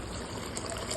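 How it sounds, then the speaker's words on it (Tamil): Water trickles steadily into a cooking pot while tomato kuzhambu is being made, a soft continuous pouring wash at close range. "தேவையான அளவு தண்ணி ஊற்றி நல்லா கொதிக்க வச்சுருங்க"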